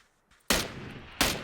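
Two sharp gunshots crack out close by in the video game PUBG, about a second apart, each with a brief echoing tail.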